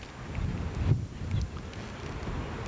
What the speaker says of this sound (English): You see the wind gusting up the dirt again on the infield.